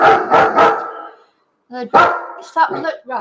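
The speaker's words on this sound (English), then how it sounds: "that Chihuahua won't stop and she'll just bark" A Chihuahua barks in quick, close bursts, a pair of yaps at the start and a rapid string of sharp barks after a short pause, loud and near.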